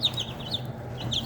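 A chicken clucks in short repeated bursts, close and fairly clear over a low steady background hum.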